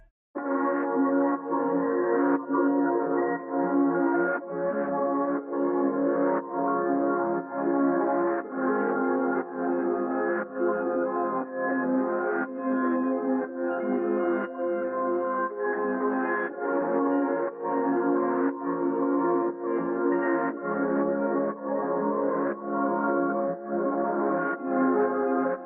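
Synth melody time-stretched and pitched down three semitones, a steady mid-range line with evenly pulsing notes and a slightly grainy, smeared texture, playing continuously at moderate loudness.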